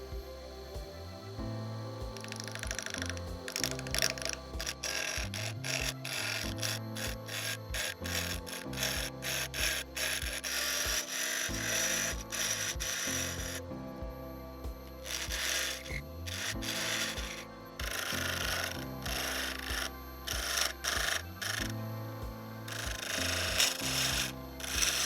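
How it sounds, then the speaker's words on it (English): A hand chisel scrapes and shapes a crushed opal ring held on a mandrel, producing repeated close rasping strokes in uneven bursts with short pauses between, loud and alone without talk. "I'm going to take my chisel and just start shaping it up."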